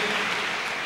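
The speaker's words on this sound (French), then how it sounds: "Nous acclamons le Seigneur Jésus" A brief burst of applause from a congregation fills a church, dense and even throughout.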